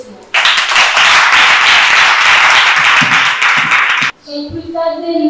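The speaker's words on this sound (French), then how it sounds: "cela mérite un tonnerre d'applaudissements" A church congregation bursts into loud, close applause at a thanksgiving service, sustained dense clapping for about four seconds that cuts off abruptly, followed by a voice speaking.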